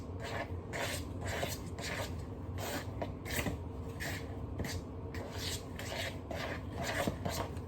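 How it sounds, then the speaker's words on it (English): Flour is stirred into cookie dough in a bowl, making a soft, steady, rhythmic scraping and rubbing that repeats over and over at close range. "Just keep stirring until you don't see any loose flour."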